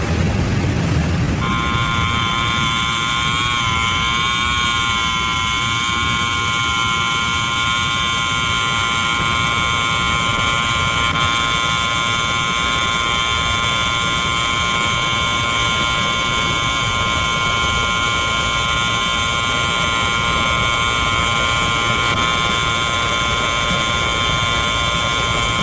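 A buzzer is held down in an institutional building, a loud, continuous harsh electronic drone with steady tonal bands that fills the whole stretch without a break.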